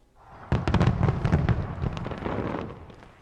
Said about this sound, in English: Australia, as usual, one of the first places to mark the new year with its traditional fireworks display in Sydney Harbour.